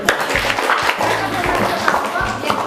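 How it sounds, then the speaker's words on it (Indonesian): A class of students clapping hands together in a classroom, a string of quick, moderately loud claps in rough rhythm over room noise. "Oke, tepuk tangan dulu."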